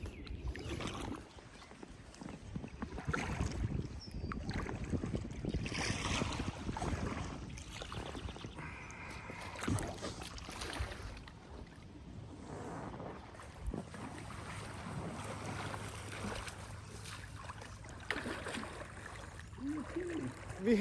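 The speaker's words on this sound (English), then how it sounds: "It's a little windy too. We got a little bit of wind coming from our backs over here." Wind and water noise surround a kayak on a two-day river trip, with steady gusty rush across the whole stretch and occasional paddle splashes and knocks, fairly close to the microphone.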